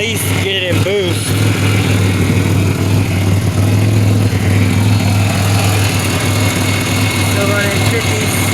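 A 2007 Pontiac Grand Prix engine with a newly plumbed intercooler and heat exchanger runs at a steady, loud drone up close, with a few whining sweeps near the start; a voice talks over it early on.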